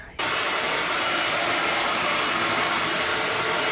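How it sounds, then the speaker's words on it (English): A hair dryer switches on and blows steadily at full power, drying a long human hair lace front wig; the loud, even whoosh continues alone without pause. "I'm gonna blow dry her"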